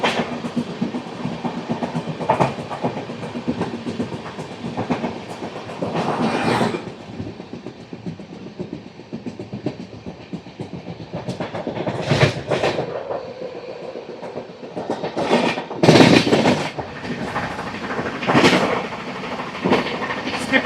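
Coromandel Express 12841 running at speed, passing a station and overtaking another express, with steady rolling rumble and rhythmic wheel clatter, louder bursts of clickety-clack and rushing noise as it passes other tracks.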